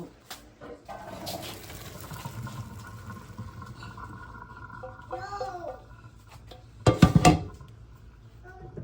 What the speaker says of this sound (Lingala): nazosopa yango na passoir